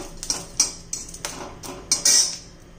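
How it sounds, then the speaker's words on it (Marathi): A metal spatula scrapes and clinks against a pan in a quick, irregular series of strokes as curry leaves roast, close up, with no voices. "कढीपत्ता पण असा चांगला परतून घ्यायचा आहे, कुरकुरीत होईल इथपर्यंत।"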